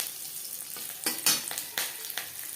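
Slit green chillies hitting hot oil with cumin in a pan, a steady close sizzle with several sharp crackling bursts and spatters over a couple of seconds, no voices.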